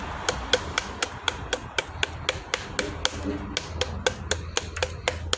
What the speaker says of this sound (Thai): พี่น้องชอบ ตำแบบสับเนาะ